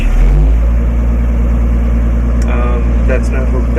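A 1985 Clark airport tug idles cold after starting, its steady low engine rumble loud and close, with a brief voice speaking over it near the end.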